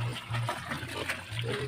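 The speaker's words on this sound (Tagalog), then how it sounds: "Yan, lagyan nga natin ng tubig." Water poured into a cooking pot, a splashing, trickling flow that runs steadily under a low hum, with faint background noise.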